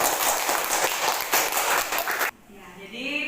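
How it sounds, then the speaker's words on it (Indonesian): A school class claps for two students after a correct answer, a burst of brisk hand clapping from a roomful of children lasting about two seconds, then cutting off abruptly as a teacher's voice resumes. "tepuk tangan dulu buat Mesia dan Alan"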